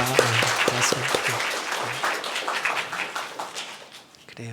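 A church congregation applauds in welcome during a Sunday worship service, with dense, steady clapping from many hands in a large room that slowly thins out. A voice can be heard at the start and again at the end.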